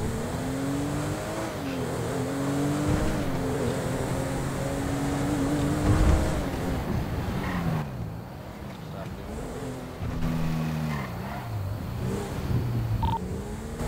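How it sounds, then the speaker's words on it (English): A car drives through an intersection in the GTA FiveM video game, its engine droning and shifting pitch steadily with rev changes, fairly loud and continuous. "There's a black four-door car coming to the intersection now."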